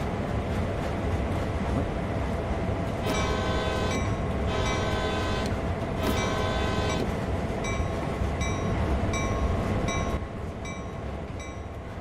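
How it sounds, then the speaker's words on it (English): Locomotive horn sounding in Train Sim World 2, a loud sustained blast broken into repeated short toots over a constant rumbling cab drone, with the horn lever's clicking heard alongside. "The fact that the horn lever is louder than the horn."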